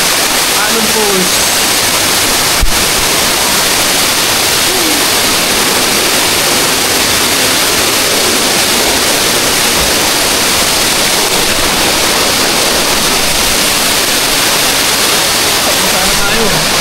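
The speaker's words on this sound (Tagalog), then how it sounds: "Naalon Falls." Naalon Falls waterfall at an adventure park, a steady, loud roar of falling water that fills the whole stretch without letup, with a brief sharp knock early on.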